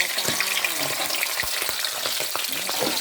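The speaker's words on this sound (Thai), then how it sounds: "จะพามาทอดปลาทูหอมอีกนะคะ" Salted mackerel frying in oil in a pan, a dense, bright crackling sizzle throughout, with occasional soft pops and light spatula taps.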